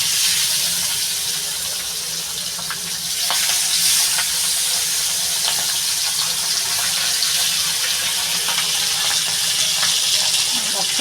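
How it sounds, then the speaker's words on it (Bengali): Pabda fish frying in hot oil for a spicy curry, a steady broadband sizzle running continuously and fairly loud throughout, swelling slightly partway through with faint scattered crackles. "তেলটা গরম হয়ে গেছে মাছটা দিয়ে দেবো"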